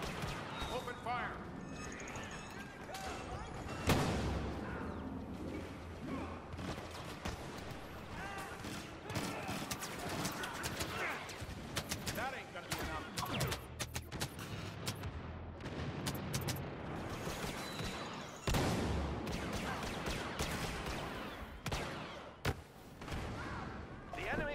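Blaster fire and explosions ring out in a Star Wars video game battle, a dense, continuous barrage of sharp shots and thuds mixed with game music and effects, with voices talking throughout.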